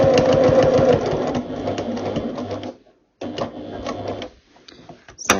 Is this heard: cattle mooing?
no